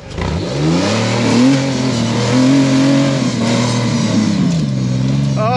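A rock crawling buggy with a small six-cylinder engine revs hard and holds a loud, steady, throaty drone for several seconds, rising and falling slightly, close by.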